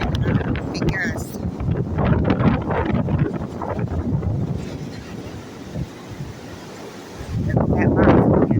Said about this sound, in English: These winds are really strong.